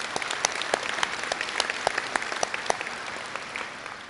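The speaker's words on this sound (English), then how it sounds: "Let's give them a big round of applause." Sustained applause fills the room at a Martin Luther King Jr. unity breakfast, many hands clapping in a dense, crackling texture that stays loud and even, then begins to thin slightly toward the end.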